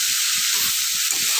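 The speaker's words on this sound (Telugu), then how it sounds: "కొంచెం సిమ్లో పెట్టుకొని కొంచెం ఫ్రై చేసుకుందాం." Cluster bean curry frying in a pan, a steady bright sizzle with a faint rhythmic low stirring sound underneath, close and continuous.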